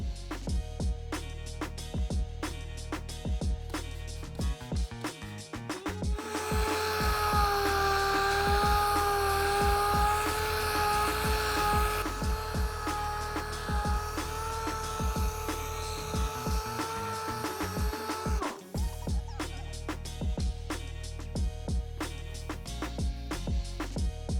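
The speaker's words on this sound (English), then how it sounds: "we're gonna go ahead and hit it with a DA with 1000 grit, 1500 grit, and then 2000 grit" A DA sander cuts painted bodywork with fine 1000 to 2000 grit paper, its steady whining hum rising in the middle of the clip for several seconds before dropping away, close over a constant background noise.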